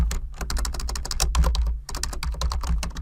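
Rapid typing on a computer keyboard, a dense run of close, loud key clicks with a brief pause midway and no talk.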